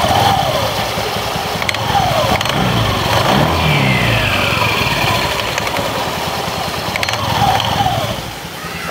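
A Honda Beat FI eSP CVT scooter engine runs close by with a rattling, knocking clatter, a steady, loud mechanical drone that continues throughout with slight swells in revving.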